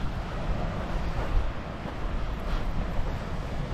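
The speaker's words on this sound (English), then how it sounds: "You might not be able to hear me very well now because the wind's going to kick in." Wind gusting along the seaside cliffs at West Bay, Dorset, a loud, steady rumbling roar buffeting the microphone with no voices heard.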